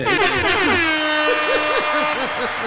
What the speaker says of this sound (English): Can I hit the air horn now?